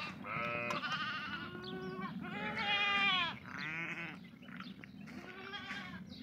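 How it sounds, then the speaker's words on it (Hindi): Goats bleat repeatedly on a farm in Saudi Arabia, several loud, close, wavering calls following one another with brief pauses between them. "ये देखो बकरी सऊदी अरब में।"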